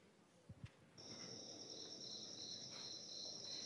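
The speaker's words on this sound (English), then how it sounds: "So crickets exhibit Arrhenius behavior. They will chirp faster as the temperature gets hotter." Crickets chirp in a steady, continuous high-pitched trill that rises out of quiet background hiss, with a couple of soft knocks just before it begins.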